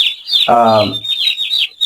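Broiler chicks packed in a cardboard carton give high, rapid peeping chirps that run continuously and close, while a lower-pitched chick-like cheeping call cuts in briefly partway through.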